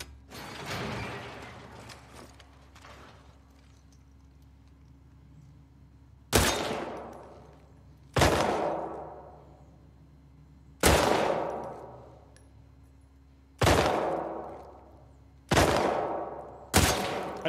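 Gunfire from a shooting-range challenge in the video game The Last of Us Part 2, six loud single shots spaced about two seconds apart, each with a sharp crack and ringing decay, after some quieter mechanical handling noises.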